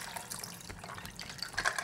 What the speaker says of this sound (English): I will just make a cold water, cold ice water, and about 3 cups